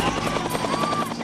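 A rescue helicopter during the Typhoon Morakot disaster at Xiaolin village, Taiwan, gives a loud, steady, rhythmic chopping of rotor blades that runs continuously throughout, with a faint engine whine beneath.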